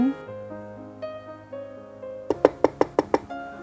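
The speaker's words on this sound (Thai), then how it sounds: "เสียงเคาะประตู ทำเอาสองสาวหยุดนิ่ง" Knocking on a bedroom door sounds in a Thai audio drama, six rapid, sharp knocks in a quick even series, following a soft sustained musical background.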